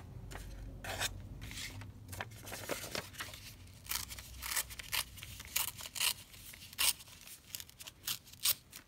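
Close scissor snips and paper rustling as a sheet of 12x12 crafting paper is trimmed, with irregular cutting strokes and crinkles, fairly quiet and without talk.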